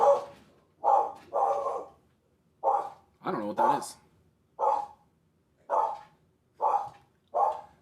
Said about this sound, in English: Dog's not happy about something.